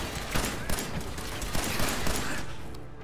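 Fallout 4 combat gunfire crackles in a rapid, dense volley, with repeated loud shots rolling one into the next over noisy battle ambience for the whole stretch.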